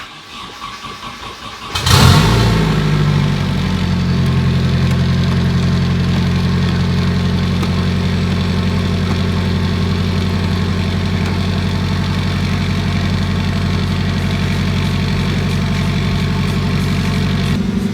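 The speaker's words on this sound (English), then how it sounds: "let's start this thing." A turbocharged Nissan 240SX engine cranks and fires up with a loud roar, then settles into a steady, throaty idle that continues unbroken.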